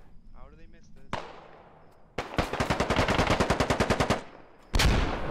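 Video game gunfire in a squad-based military operation: a single sharp shot, then a close, rapid burst of automatic fire, a pause and another loud shot, with faint voice chatter early on.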